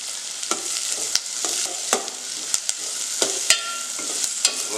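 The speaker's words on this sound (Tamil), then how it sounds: "அது கொஞ்சம் பூண்டு சின்ன வெங்காயம் வதங்கி வாரணும்." Garlic and shallots sauté in a pan for soup, with a bright, constant sizzle broken by repeated sharp scrapes and taps of the spatula stirring close up.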